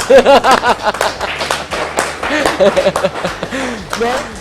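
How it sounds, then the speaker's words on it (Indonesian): Audience clapping for call center staff at a public service event, distinct sharp claps in an uneven rhythm with voices talking and laughing over them. "Kita beri tepuk tangan luar biasa."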